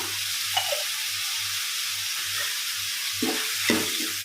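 Steady sizzling of onions frying in a pan with a little salt for a Mangalore-style fish curry, a constant hiss with occasional stirring scrapes and clinks, close and alone.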